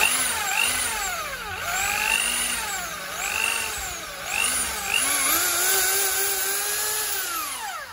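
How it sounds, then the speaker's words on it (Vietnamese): A dual-function 220-volt electric wood drill with a 13 mm chuck whines at close range, its motor pitch repeatedly swooping up and down as it is revved and released over several seconds, with no talking. "Số 7 là một con khoan gỗ hai chức năng nhé."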